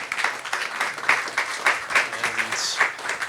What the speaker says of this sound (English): So, round of applause for our amazing panelists.